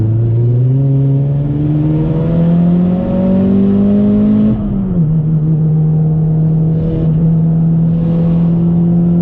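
A Mazdaspeed 3 engine revs up hard and close in third gear, pitch climbing steadily, dips briefly as if shifting, then drones on at a strong, steady roar.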